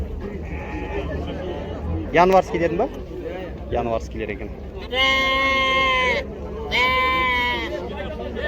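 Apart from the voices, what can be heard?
lambs bleating at livestock market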